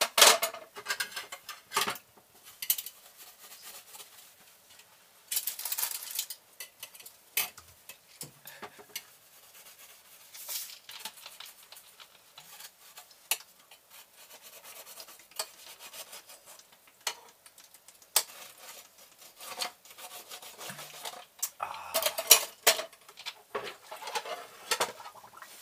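Dishes being washed by hand, with sporadic clinks of plates and cutlery, rubbing and brief splashes coming in scattered bursts at close range, fairly quiet between the sounds.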